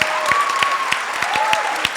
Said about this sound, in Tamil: ஒரு சிறப்பான கைத்தட்டல்கள்